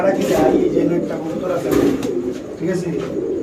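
A pigeon at a seller's stall coos repeatedly in low, throaty phrases, close by, with background chatter and bird sounds mixed in.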